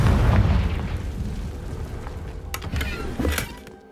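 A Confringo blasting spell goes off in Hogwarts Legacy as a loud, rumbling explosion that starts at once and slowly decays. Sharper crackling bursts follow before everything fades out, with no talk over it.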